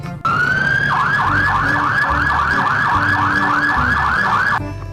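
A toy fire rescue truck sounds its electronic siren up close, a loud repeating wail that sweeps up and down about a dozen times before stopping.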